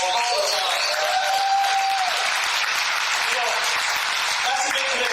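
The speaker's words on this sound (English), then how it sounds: "give another round of applause for Carl" An audience at a regional event claps loudly and steadily for several seconds, a dense continuous wash of applause from a crowd close by.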